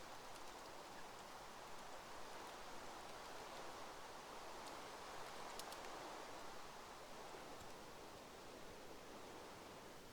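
Steady rain in the Minecraft game world with the Thaumcraft 4 mod, an even, constant hiss of falling water heard alone for the whole stretch with no breaks or talking.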